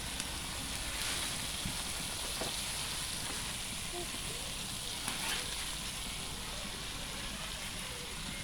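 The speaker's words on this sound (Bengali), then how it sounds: "টমেটো এখানে কষানো হচ্ছে" Tomatoes sautéing over a village clay stove give a steady, close sizzle and hiss throughout, with faint stirring scrapes and a few brief knocks, no voices.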